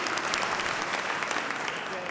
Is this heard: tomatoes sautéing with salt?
no